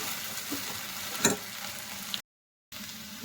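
Okra and eggs fry in a pan with a steady, close sizzle and light stirring scrapes, including one sharper clink, before the sound cuts out briefly and the frying resumes; no one speaks.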